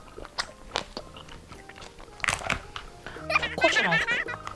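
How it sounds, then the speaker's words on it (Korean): Biting and chewing through a school lunch drizzled with chocolate syrup, with soft close chewing sounds and a brief burst of giggling toward the end. "한번 먹어보겠습니다."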